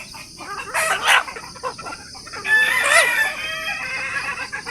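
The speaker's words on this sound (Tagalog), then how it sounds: "Ito yung mga native chicken mga farmers." Native chickens cluck and a rooster crows in a farm flock, two loud bursts of crowing rising over steady clucking and ambient yard noise.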